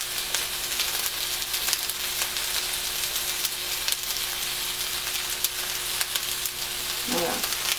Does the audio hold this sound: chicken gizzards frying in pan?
yes